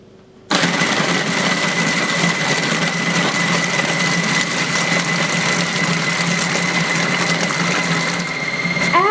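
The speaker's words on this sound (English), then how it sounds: "Cover food processor with lid and mix all the ingredients at medium speed until a smooth consistency is formed." A food processor runs steadily at medium speed, blending cake roll ingredients for a Spanish guava-filled roll; a loud, continuous whirring motor hum starts abruptly after a brief quiet moment and holds evenly throughout, with no talking.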